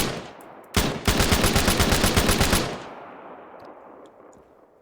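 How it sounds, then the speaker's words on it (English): A placeholder plasma rifle in the Arma 3 video game fires a loud, fast automatic burst of evenly spaced shots lasting about two seconds, followed by a fading echoing tail. "This is, of course, the plasma rifle, or at least a placeholder for the plasma rifle. Firing it, it functions just the same as the assault rifle."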